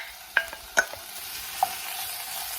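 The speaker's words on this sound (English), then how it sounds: "we're gonna saute our peppers and onions" Peppers and onions sautéing over medium-high heat in a hot pan with leftover beef juices give a soft, steady sizzle, broken by a few sharp spatula taps early on. No one speaks.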